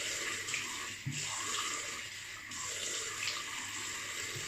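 Hot water runs from a tap in a steady, quiet hiss with a faint splash, and a small knock breaks in about a second in.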